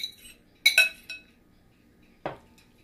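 Metal utensils clink against a pan and dish while bacon is added to fried cabbage with carrots: a quick cluster of bright clinks, another lighter tap, then a single scrape-knock, close and alone.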